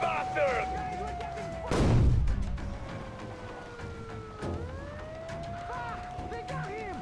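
A heavy blast of gunfire booms out in a Metro Exodus game cutscene, one loud burst standing out amid tense shouting, a descending siren-like whine and scattered impacts.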